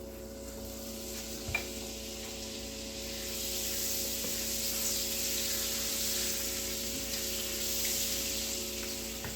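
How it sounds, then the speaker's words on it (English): Butter melting and sizzling in a pan while smothered pork chops are cooked, a steady soft hiss with light crackles and a faint electrical hum, no voices. "While that's cooking, we're gonna drop off some butter."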